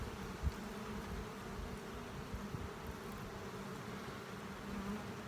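Bees clinging together in a festoon inside a hive drone in a steady, close hum that holds evenly throughout, with no voices.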